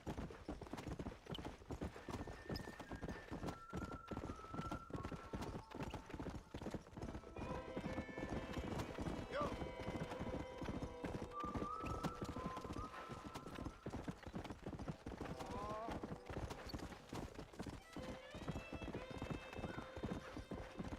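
Horse hooves clip-clopping at a steady galloping rhythm in the video game Red Dead Redemption running on the Xenia emulator, with occasional whinnies, light chirping glitches and game music continuing throughout.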